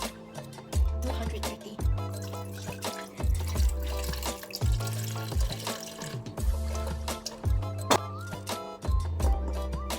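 Water runs and splashes in irregular bursts with dripping and clinking, 230 of water poured into a container for homemade bread dough, fairly close, with no voices.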